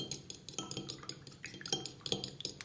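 An egg being whisked in a bowl for a homemade hair mask, with quick, steady clinking of utensil against the bowl in a close, busy rhythm.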